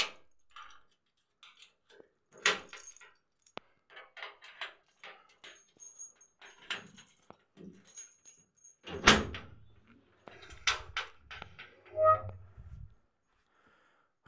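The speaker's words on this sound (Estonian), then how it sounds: "Teeme raudkapi ukse lahti." A steel safe cabinet door in a house is handled and opened, giving a series of scattered metallic clicks, latch knocks and thuds with quiet gaps, close and moderate in level.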